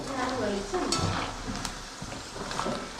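French fries bubble in hot oil with a dense, continuous sizzle close by, with some stirring movement and a faint voice in the background.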